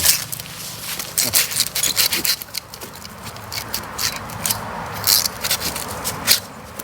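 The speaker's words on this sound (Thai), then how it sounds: "วิธีแบ่งก็ง่ายๆใช้เลื่อยครับ" A hand saw rasps through the root clump of a variegated bamboo as it is divided, giving repeated scraping strokes, fairly close and continuous, with someone talking faintly in places.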